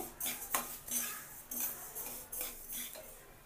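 Sesame seeds dry-roasting in a pan for sesame laddu, with a metal spoon scraping and clinking against the pan in rapid irregular strokes, close and moderately loud, without any voices.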